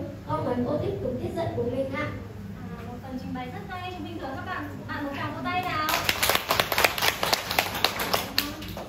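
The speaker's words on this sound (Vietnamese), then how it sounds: "chúng mình thưởng các bạn một tràng vỗ tay nào." Children in a primary classroom during a Hanoi history lesson, with children and a teacher talking at first, then a burst of rhythmic group clapping rising toward the end.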